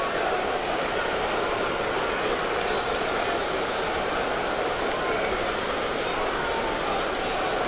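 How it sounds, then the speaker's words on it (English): Rain falls on a baseball stadium during a game, making a steady, dense hiss that blends with a continuous crowd murmur and fills the whole stretch. "Rain starting to fall a little harder."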